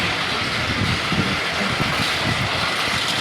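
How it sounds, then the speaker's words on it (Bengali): A train at Khulna railway station in Bangladesh, a loud, dense rumble of engine and carriages close by, with a continuous roar for the whole stretch. "এই ট্রেনটাই আমরা যাবো বেনাপোল যাবো"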